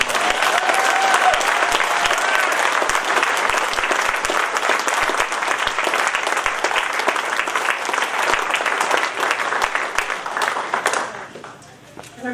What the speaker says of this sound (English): Let's give them all another nice round of applause.